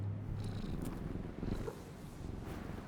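A cat purrs steadily as it is petted in the Indiana Jones and the Great Circle video game, a close, continuous low rumble with no talking.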